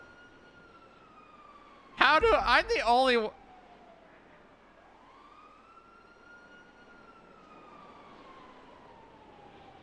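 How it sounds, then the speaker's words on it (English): A police car siren wails in GTA roleplay on the NoPixel server, its tone rising and falling steadily throughout at moderate level, with a brief burst of loud talk early on. "You can hear my siren on down there, dude."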